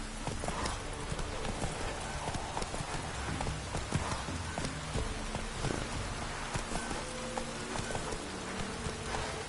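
Rapid, continuous clip-clop of hooves from the horse Roach galloping in The Witcher 3, loud and rhythmic over a rain-like wash of background noise.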